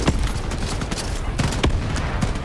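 Rapid bursts of gunfire from the video game Shatterline, with repeated sharp shots crackling close and loud over a dense continuous din of battle and some faint voices.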